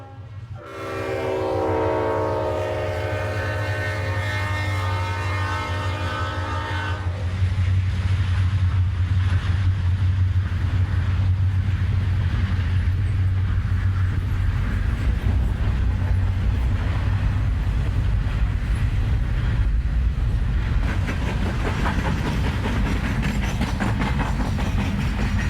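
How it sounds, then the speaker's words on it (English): A CSX freight locomotive horn sounds in long sustained blasts for several seconds in Cowan, then a loud steady rumble of a container train descending a grade continues with rail noise throughout. "the horn of another northbound CSX locomotive is heard in Cowan as a container train"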